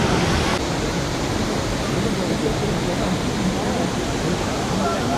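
Abbey Falls in Coorg, a waterfall crowded with tourists, roaring as a loud, steady, broadband rush of falling water, with voices faintly mixed into the constant wash.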